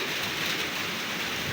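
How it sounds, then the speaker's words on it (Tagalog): Heavy typhoon rain pours steadily outdoors in the Philippines at early morning, a dense continuous hiss with a low wind rumble and no voices. "grabe yung ulan dito"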